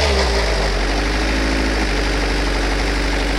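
A Saturn Astra car engine suffering a loss of power runs at high revs, a loud, steady droning hum held throughout with no voices.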